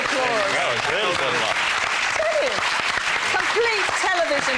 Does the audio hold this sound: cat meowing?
no